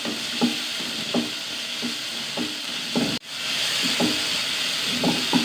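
Tomato and onion sauté in a pan, a steady sizzle and hiss running beneath regular scraping stirs every second or so, with a short drop in the frying partway through before it resumes.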